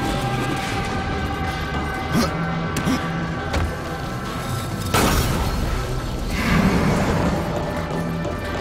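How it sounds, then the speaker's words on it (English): Gate dropping in the Darksiders video game, a heavy mechanical boom rising out of a constant droning game soundtrack, followed by rumbling movement. "That drops this gate here"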